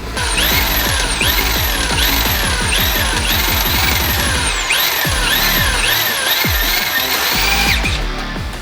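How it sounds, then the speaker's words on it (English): A power drill whines loudly and continuously, its pitch repeatedly rising and dropping in cycles as it bores through the metal steering knuckles of an early Ford Bronco, with no talking. "we just got done drilling out the knuckles"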